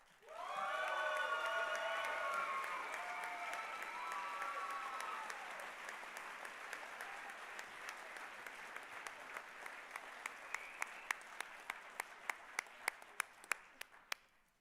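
A large banquet audience applauds steadily for several seconds, dense clapping that gradually thins out into a few scattered claps at the end.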